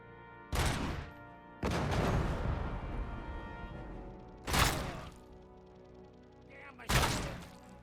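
Heavy gunfire in the Robocop: Rogue City video game, with four loud, booming shots spaced a second or two apart, each followed by a long decaying tail, and no talk between them.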